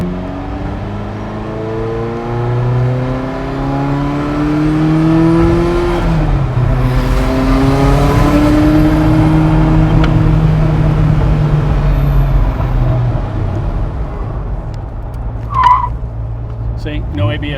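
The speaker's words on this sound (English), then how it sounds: "See how hard it pulls in first gear, so it gets right with the program, and it popped out the wastegate." A Ferrari F40 accelerating hard in first gear with turbo boost building and the wastegate popping, heard from inside the car as a loud, rising engine roar that climbs in pitch and sweeps through gears, ending with a sharp pop.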